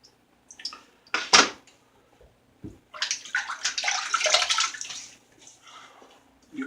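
Water runs and splashes at a sink during washing up before a shave, in short bursts and a longer sloshing stretch with quiet gaps, close by.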